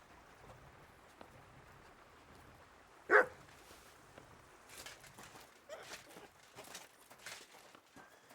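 A dog barks once, sharp and close, in the medieval role-playing game Kingdom Come: Deliverance II, followed by several softer yips and whines against a quiet ambient backdrop.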